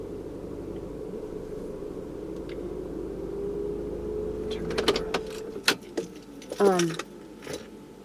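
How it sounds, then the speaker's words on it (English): A car engine idles with a steady low hum heard from inside the vehicle, joined later by clicks, jangling keys and the whir of a power window. "we can listen to my car breathe"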